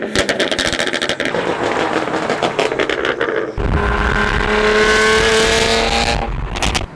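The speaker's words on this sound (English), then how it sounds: "X pipe, and it's an in-performance exhaust." A BMW 335i with the N54 twin-turbo engine and an M Performance exhaust with X-pipe, a loud engine roar that revs and accelerates, then shifts into a higher, sustained tone after a brief dip.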